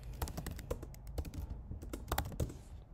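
Rapid typing on a computer keyboard, with close, crisp key clicks in irregular bursts and short pauses throughout, alone with no talking.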